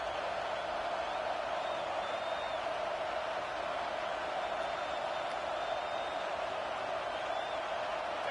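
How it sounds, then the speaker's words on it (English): Steady roar of a large college football stadium crowd at Saban Field on third down, a dense continuous wash of distant voices with no distinct cheers or claps standing out. "The Tide crowd rolling noise down onto Saban Field on 3rd down."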